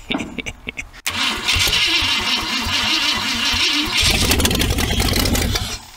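An AMC Javelin engine cranks on starting fluid and fires up into a loud, rough, sputtering run that holds steady close by. The exhaust manifold is rusty.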